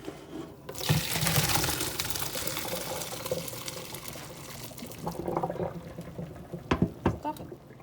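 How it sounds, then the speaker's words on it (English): Pasta cooking water pours out of a pot into a sink for stovetop mac and cheese, a loud rushing gush that runs steadily for several seconds before thinning into irregular splashes and drips near the end. "Now I'm about to drain this water out"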